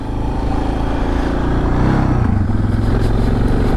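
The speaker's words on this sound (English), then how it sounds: "somebody ripping around on a motorcycle probably, huh?" A motorcycle revs somewhere in the distance during a ride on a rural dirt trail, a steady engine drone that swells midway, heard alone with no talking.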